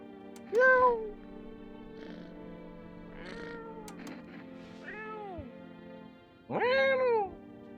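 A cat in the video game I'm Not Human meows several times, two loud clear meows framing softer, fainter ones, over a steady low background hum.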